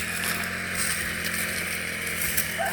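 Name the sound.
grass cutter running near banana plants on a farm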